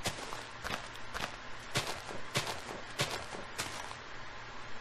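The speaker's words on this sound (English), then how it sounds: "Did anyone else just hear footsteps that weren't mine?" Footsteps in the Minecraft video game, a rapid series of crisp, loud steps falling in an uneven walking rhythm over a faint steady background hum, with no talking.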